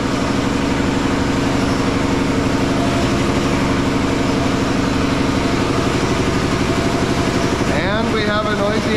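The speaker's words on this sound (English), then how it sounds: "we have a noisy air compressor" A noisy air compressor runs steadily, building up air in a car wash equipment room, a loud continuous droning clatter close by; a voice breaks in briefly near the end.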